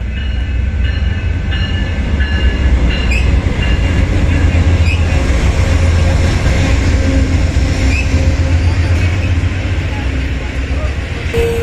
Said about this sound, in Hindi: हमारी ट्रेन आ गई है, चलते हैं मायामी।